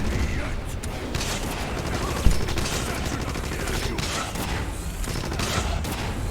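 A rapid string of gunshots in a noisy Wolfenstein game battle, with one sharper close shot partway through.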